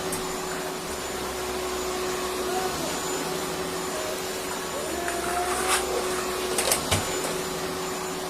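A pink toy vacuum cleaner runs with a steady, thin motor whine throughout, holding an even level with a few small clicks and bumps near the end.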